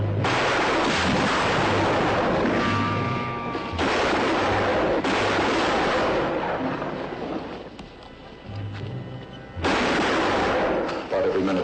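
Gunfire rings out through a window in an old western drama, in heavy, booming bursts that roll and echo for several seconds, then pause before another loud round.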